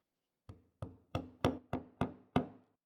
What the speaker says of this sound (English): So here's a quick shot of me squaring off this mortise.